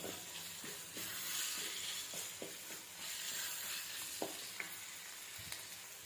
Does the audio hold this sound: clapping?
no